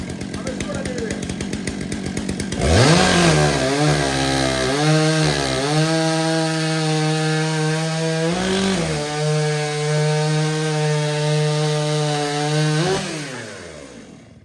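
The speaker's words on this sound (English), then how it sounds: "that is the Stihl stock saw" A Stihl stock saw chainsaw roars into a wood cut at a timbersports demonstration, starting after a rattling idle, then screaming loudly and steadily through the log with brief pitch dips before winding down.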